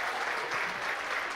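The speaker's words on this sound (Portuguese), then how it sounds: "Uma salva de palmas," A short burst of audience applause during a live show, fairly quiet and distant, a dense even patter of many hands clapping.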